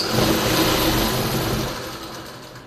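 A sewing machine stitching a seam on trousers, running with a steady fast mechanical whir close by before slowing and fading toward the end.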